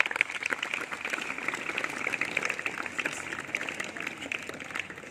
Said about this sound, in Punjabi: ਇੱਕ ਵਾਰੀ ਤਾੜੀ ਜ਼ਰੂਰ ਮਾਰ ਦਿਓ